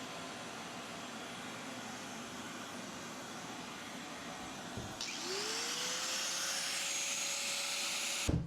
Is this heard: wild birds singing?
no